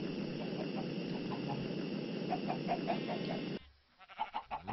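Chickens in Minecraft cluck over a dense, noisy farm background, then a short burst of clucks sounds clearly once the background noise cuts out near the end.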